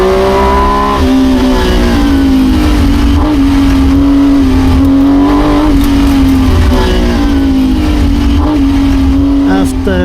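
A loud historic Porsche race car engine holds a steady high drone with slight pitch wavers, close and continuous, while someone talks over it.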